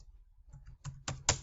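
Keys on a computer keyboard are typed during spreadsheet work. A few soft, close clicks come first, then three sharper keystrokes in an uneven rhythm.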